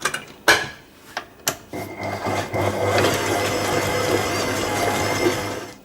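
Electric mixer whirring steadily as vanilla essence and egg are blended into a light, fluffy batter, preceded by a few sharp clacks and knocks before the motor settles into a continuous, close, fairly loud drone.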